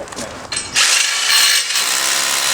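A Hitachi DH25DAL SDS Plus rotary hammer drill kicks in loudly after a brief start-stop, running with a harsh, continuous hammering roar up close.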